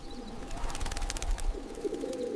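Pigeons coo softly and repeatedly, a steady low murmuring flock heard up close as a sound effect in a narrated story, with no voices over it.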